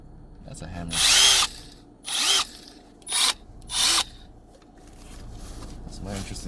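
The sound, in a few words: Milwaukee hammer drill running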